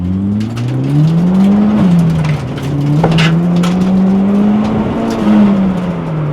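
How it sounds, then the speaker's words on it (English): A turbocharged K23 engine in a Honda Civic held hard against the rev limiter, a loud steady droning engine tone wavering up and down as it bounces off the cutoff, close and continuous. "That may have just been the rev limiter I was bouncing off of."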